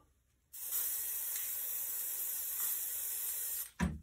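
One continuous hiss of spray paint from an aerosol can sprayed into water for hydro dipping a flask runs steadily for about three seconds, close by, then stops with a brief clatter.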